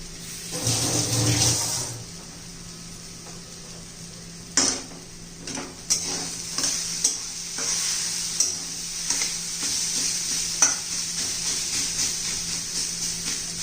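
Pudina thecha, a coarse mint and chilli mash, sautés in a pan on medium gas, with a steady sizzle under repeated scraping spoon strokes and a louder burst at the start, no voices.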